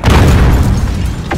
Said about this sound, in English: Bro, chill with the grenades, man.